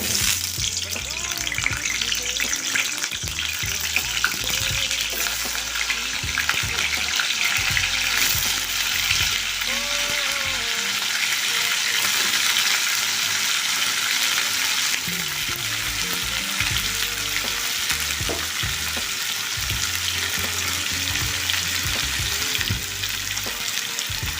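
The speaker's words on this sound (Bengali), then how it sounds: "এবার আমি এঁচড়গুলোকে ভেজে নেব।" Raw jackfruit pieces frying in hot oil in a pan, a steady loud sizzle with occasional stirring scrapes running throughout, no talking.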